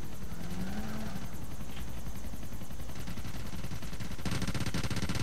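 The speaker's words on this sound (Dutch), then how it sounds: "Hier staan normaal die touring helikopters, dus dat is nou gewoon een politie helikopter." Police helicopter in the video game GTA IV, a steady rotor and engine drone running throughout, mixed with bursts of game gunfire and growing louder near the end.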